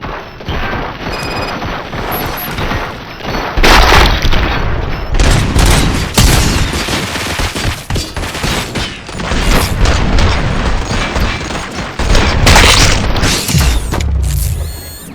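Loud, dense gunfire and booming explosions fill a firefight in the video game Robocop: Rogue City, with repeated heavy bursts and blasts running through the whole stretch without pause.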